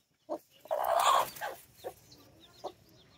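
A mother hen clucks nearby in a few short, separate calls while guarding her chicks from a rooster, with one louder drawn-out squawk in between, against a quiet background.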